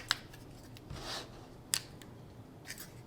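Quilt fabric being trimmed with scissors, a few short crisp snips and a soft rub spaced apart, quiet and close with no voices.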